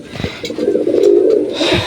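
A pigeon in a pigeon house gives one drawn-out, throaty coo, close and fairly loud, with brief rustles at either end.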